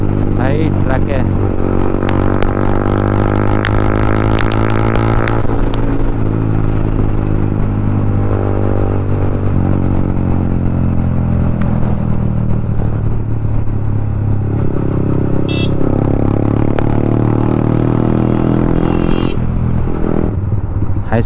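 Yamaha MT-15 motorcycle fitted with an Akrapovic exhaust, ridden in the evening, its engine droning steadily and loudly close by with shifting revs throughout, while a voice talks over it in places.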